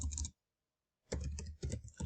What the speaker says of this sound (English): So I'm just going to type in,